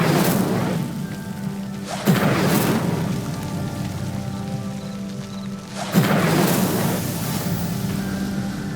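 An Incendio fire spell is cast twice in Hogwarts Legacy, each burst a loud whooshing blast with crackling flame, the first at about two seconds and the second near six seconds, over steady ambient game noise.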